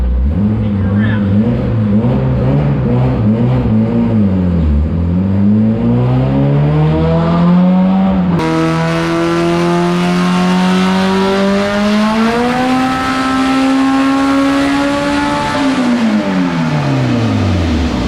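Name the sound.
modified car with 590 HP single cam engine driven around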